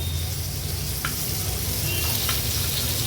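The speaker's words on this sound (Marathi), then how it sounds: "आता ही आपली मच्छी फ्राय करून झाली आहे गॅसची फ्लेम मी अगदी अर्ध्या मिनिटासाठी हाय करते" Big ribbon fish pieces frying in hot oil in a pan over a high gas flame, a steady dense sizzle with a couple of brief sharper crackles, close and continuous with no talking.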